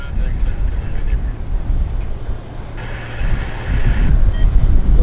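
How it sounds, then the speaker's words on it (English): A United SkyWest Embraer airliner at Vancouver Airport rumbles as a low, steady jet roar that swells toward the end, heard from a distance with some background noise. "There it is, United SkyWest Embraer."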